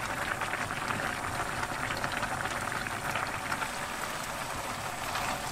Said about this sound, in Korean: 고추도 간이 되게끔 졸일게요